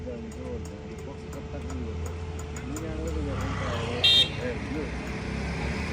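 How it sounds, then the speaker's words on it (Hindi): Road traffic jammed before the Sonprayag parking area on the route to Kedarnath, with idling engines, a steady roadway rumble and a short horn toot near the end, heard under someone talking. "पार्किंग से पहले देखो कितना बड़ा जाम लगा हुआ है भाई, देखो बहुत जाम है"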